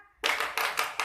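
A classroom of students does the rhythmic 'tepuk semangat' clap: after a brief quiet moment, four loud, close bursts of many hands clapping together land in a steady beat, with no talking.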